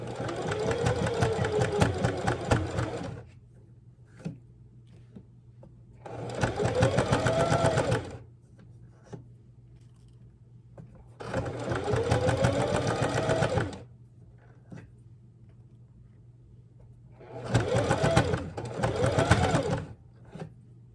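Sewing machine running in four separate bursts of stitching, each two to three seconds long, laying down a half-inch French seam; steady motor whir with quiet pauses between runs, no voices.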